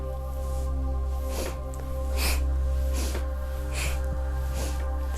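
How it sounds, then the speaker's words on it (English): Forceful rhythmic yoga breathing in the style of breath of fire or Bhastrika during a Kundalini session, with sharp nasal exhale bursts recurring roughly every second over a steady low background drone. "This is similar to breath of fire or Bhastrika breathing."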